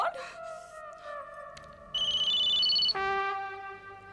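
A telephone ringing indoors in an Indian home, its electronic tone sounding steadily and fairly loud for several seconds, with no one speaking over it.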